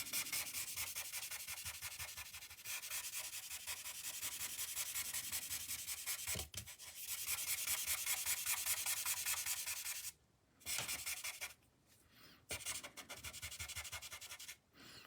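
An E41 alcohol marker's chisel nib strokes across paper in close, steady rubbing sweeps, a continuous scratchy hiss broken by short pauses as the nib lifts and restarts.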